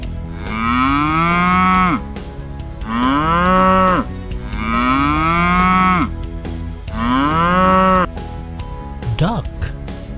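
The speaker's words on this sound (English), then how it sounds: "Cow." A toy cow plays four loud, evenly spaced mooing calls over a constant background hum, with a brief spoken word near the end.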